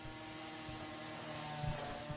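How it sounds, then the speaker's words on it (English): A machine cuts the right-hand front window for an aircraft, giving a faint steady hum with a high whine and a few soft thumps, with no voices. "And next up on the machine, cutting the right hand front window."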